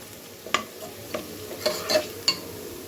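Onions frying in a pot for dry khichuri, a soft steady sizzle broken by several sharp scrapes and knocks of a spoon stirring against the pan, heard close with no talking.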